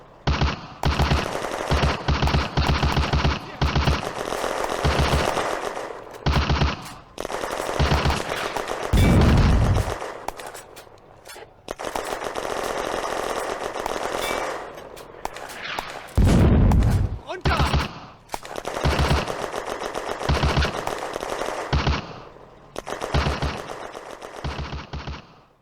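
Woodland firefight in the video game Firefight, with dense bursts of machine-gun and rifle fire rattling almost nonstop, broken by a couple of heavy booming impacts, loud and close throughout.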